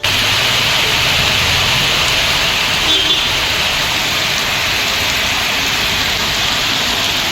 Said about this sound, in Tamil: பிற்பகலில் மழை பொழிந்தது